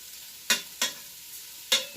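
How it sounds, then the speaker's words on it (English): Crumbled sausage sizzles as it browns in a Ninja Foodi pot, a faint steady fry broken by three sharp scraping stirs of a utensil against the pot. "got to cook the sausage and kind of get it crumbled up"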